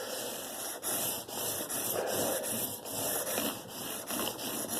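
A guitar fretboard is sanded with 600 grit sandpaper wrapped on a square flat block, giving a brisk, close, rhythmic rasp of repeated back-and-forth strokes about twice a second.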